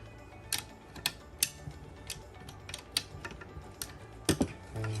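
A motor pulley is tightened on a workbench while building an ILGoblin Raw 700, giving sharp ratcheting clicks and metallic ticks in irregular bursts, close and fairly loud over a low steady hum.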